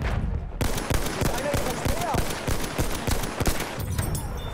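Rapid gunfire in Battlefield 1 multiplayer on PS4, dense bursts of close shots repeating steadily for several seconds.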